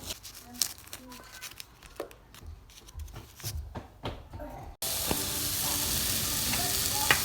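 Thawed frozen vegetables and bacon fry in a home kitchen pan, first with stirring and clattering utensil knocks, then a sudden loud steady sizzle as food hits the hot pan.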